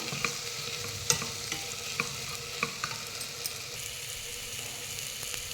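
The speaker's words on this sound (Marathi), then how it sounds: "हे सगळे मसाले मी यात ॲड करते आणि व्यवस्थित एक मिनिटभर परतून घेऊया" Spices, tomato, potato and green chilli sautéing in a pan for dal khichdi, a steady soft sizzle with repeated stirring clicks and scrapes of a spoon, close and alone without talk.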